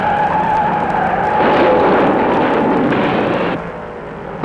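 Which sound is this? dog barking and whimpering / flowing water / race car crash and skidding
race car crash and skidding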